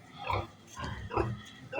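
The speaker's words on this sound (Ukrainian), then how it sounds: "Тут у мене свиноматка одна." A sow in a pen on a small farm gives a few close, short grunts in three separate bursts over about two seconds, with no talking.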